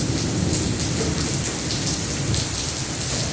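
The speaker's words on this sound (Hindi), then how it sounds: "ये बारिश हो रही है इस टाइम तेज़ वाली" Heavy pre-dawn rain pours steadily in a dense, loud hiss, with low rumbles of thunder rolling underneath, no voices.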